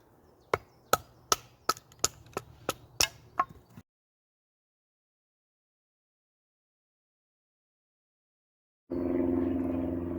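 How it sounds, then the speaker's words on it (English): A run of eight sharp, evenly spaced chopping strikes on firewood out in the woods, each a crisp wooden crack, followed by silence and then a low rumbling noise near the end. "Firewood cut."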